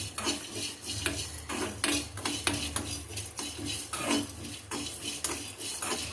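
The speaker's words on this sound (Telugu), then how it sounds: "స్లోగా ఇవి మంచి వాసన వచ్చే వరకు వేయించుకుందాము" Spices and coconut dry-roasting in a pan as a utensil clinks and scrapes against the metal in quick, steady strokes, close up under a low background hum.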